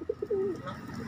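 A pigeon gives a short coo nearby: two or three soft clipped notes, then a longer rolling note, all within about a second.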